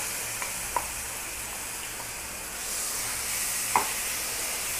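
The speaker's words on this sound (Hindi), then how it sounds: "तो ऑयल हमारा गरम हो चुका है, तब इसमें हम अपना चिकन ऐड कर देंगे।" Chicken pieces fry in hot oil in a pan for a chicken cheese pizza, with a steady close sizzle and a few sharp crackles and pops.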